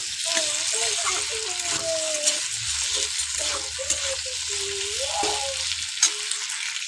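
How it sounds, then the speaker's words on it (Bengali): Peas and spices stir-fry in a pan over high flame with a steady sizzle, while a spatula scrapes and stirs in irregular strokes and a voice speaks over the cooking. "এই মশলাটাকে একদম লো ফ্লেমে না, হাই ফ্লেমে দিয়ে ভালো করে কষিয়ে নেবে কিন্তু।"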